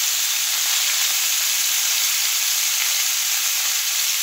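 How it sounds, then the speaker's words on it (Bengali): Elephant apple (chalta) pieces are stirred in a hot pan for a tangy-sweet pickle, producing a steady, close, unbroken sizzle with no other sounds over it. "চালতাটা দিয়ে আমি একটু হালকা করে নেড়ে চেড়ে নেব"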